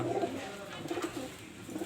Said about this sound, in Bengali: এখানে এক জোড়া আছে, দেখেন খুবই ভালো কবুতর